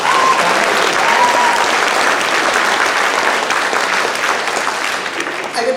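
Concert audience at a performance at BBHS in Boynton Beach applauding the band's vocalist, a loud, sustained wash of clapping that tapers slightly near the end.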